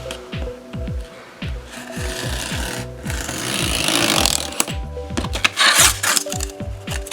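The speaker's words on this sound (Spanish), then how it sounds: "en este cartón, lo primero que voy a hacer va a ser cortarlo, pero cortarlo inclinado." Cardboard being cut at an angle, heard as close, loud, rhythmic rasping strokes repeating steadily, growing rougher and denser toward the end.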